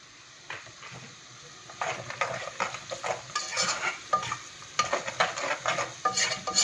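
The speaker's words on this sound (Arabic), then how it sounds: "والكركم والكاري انا مقلباهم على بعض" Turmeric and curry spices stirred together in a hot pan, with repeated rhythmic scraping strokes of a spoon against metal over a light sizzle, close and fairly loud.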